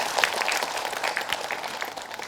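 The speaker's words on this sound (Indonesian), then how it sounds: "Tepuk tangan Bu, Masya Allah." An audience at a Muslim women's religious gathering in Indonesia claps in a dense, steady patter of applause for a couple of seconds, moderately loud and without voices over it.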